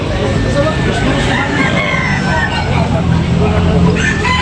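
Chickens and roosters at a poultry market cluck and crow amid a dense, loud hubbub of crowd chatter and background noise, with people talking nearby.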